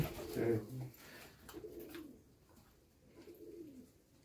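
Pigeons in a fancier's loft give soft, low cooing calls, one fuller phrase followed by fainter repeated coos, quiet and close, with slight background noise.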